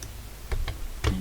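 Computer mouse clicking on a node while editing, a few sharp quiet clicks spaced unevenly, near and alone.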